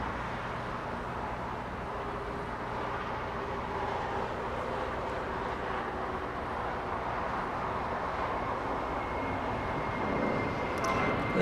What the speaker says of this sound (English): We have United Airlines 403 flying in from Denver, Colorado.